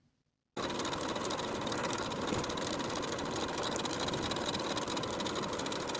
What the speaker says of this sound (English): I'm going to edge stitch close to that inner fold all the way around